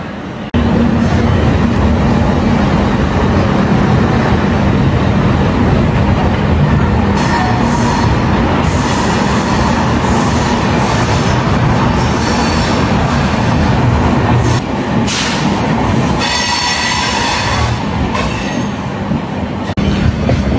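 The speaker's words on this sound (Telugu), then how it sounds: "ట్రైన్ స్లోగా అయితే పికప్ అందుకుంటుంది." The Tirumala Express from Visakhapatnam to Tirupati pulls out of the station, a steady loud rumble with wheel clatter and occasional squeal as it slowly gathers speed, heard from aboard with no talk.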